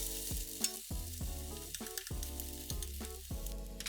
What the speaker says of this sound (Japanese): 卵に白だしとみりんを少し混ぜて、熱したフライパンに入れ混ぜます